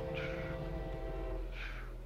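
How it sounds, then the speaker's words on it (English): A train in the Minecraft video game sounds quietly, with a sustained horn-like tone and two short, brighter blasts about a second and a half apart. "I didn't know there was a train in the end."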